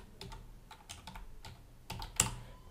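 An FTP account password is typed on a computer keyboard, with quiet, close key clicks in uneven bursts and a firmer keystroke near the end, like a final key press.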